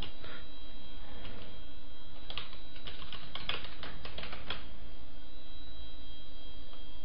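Clicky keystrokes on a computer keyboard come in short, uneven bursts, clustered mid-way and thinning toward the end, close up over a steady electrical hum and background hiss.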